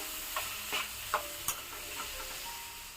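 Moong dal frying in oil, a soft steady sizzle with a few light spatula taps and scrapes spaced about half a second apart, quiet and close.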